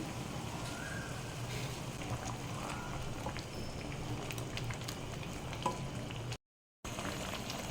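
Tea leaves boil in water in a pot on a stove for a plant fertilizer, a constant close bubbling hiss with faint crackles and a brief gap of silence near the end.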